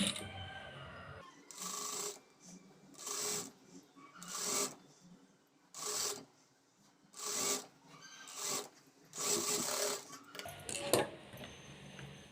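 A sewing machine stitches a lined blouse in repeated short runs of rapid whirring, each burst lasting about a second with quiet pauses between, close and clear with no talk.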